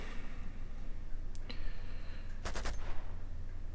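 Bursts of gunfire from the Uncharted 2 video game: a couple of sharp isolated shots, then a rapid cluster of loud shots, over a steady low game ambience.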